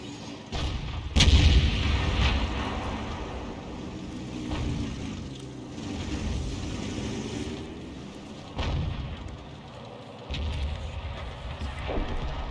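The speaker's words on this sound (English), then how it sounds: "all those arty rounds hitting him has really put him off" Artillery shells striking tanks in World of Tanks, several booming impacts and rumbling blasts spread across the stretch over a continuous low engine-like drone, with mid-distance thuds recurring irregularly.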